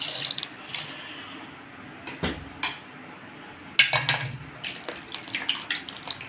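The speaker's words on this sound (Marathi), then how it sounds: "तर आता आपण थंड पाणी घालूया थोडंसं" Cold water splashes and trickles in short bursts into a container of mangoes after hot water is drained, with occasional clinks of a metal pot.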